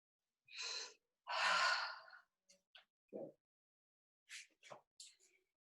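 During a guided yoga session, a person takes a slow audible inhale and a long sighing exhale close to the microphone, followed by a few softer, short breaths in near silence.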